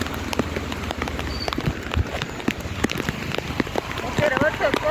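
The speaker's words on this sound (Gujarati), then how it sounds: "અત્યારે વરસાદ ચાલુ છે." Heavy downpour in Junagadh near Girnar and Damodar Kund: dense patter of rain drumming on surfaces, with scattered sharper drop hits and a voice talking over it.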